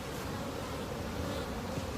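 Honeybees swarm over the frames of an opened beehive as a frame is pried loose, filling the space with a dense, steady, close-up buzz that never lets up.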